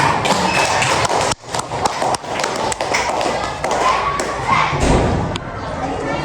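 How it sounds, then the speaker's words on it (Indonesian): Students clapping together in a classroom, a dense, fairly loud patter of hands that runs steadily for several seconds with a brief dip early on, voices mixed in around it. "Tepuk tangan dulu ya buat kita."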